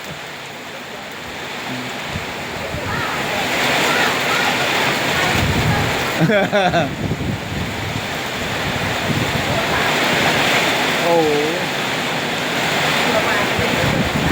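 Rainstorm with strong wind lashing a tiled rooftop and bamboo clump in Nakhon Phanom, a steady broadband roar of rain and gusts throughout, with a man's brief exclamations and talk over it.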